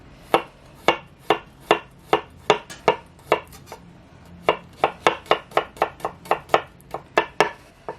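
Knife slicing garlic on a cutting board, a close series of crisp, sharp taps in an uneven rhythm, about two dozen cuts with a brief pause midway, no talking.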